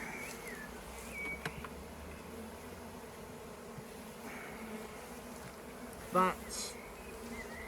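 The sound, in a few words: bees buzzing around a hive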